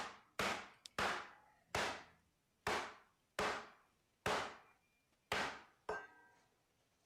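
A pan used as a hammer pounds a chicken breast wrapped in plastic wrap, eight or nine sharp, evenly spaced thuds with short ringing decays, close and clear with no talking.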